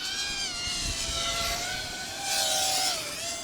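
An HGLRC Batman220 5-inch racing drone flies with a loud, whining buzz of high-revving motors, the pitch rising and falling as the throttle changes, with no talk.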